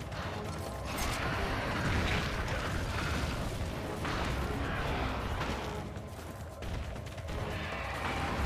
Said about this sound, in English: Okay, can I fire a shell?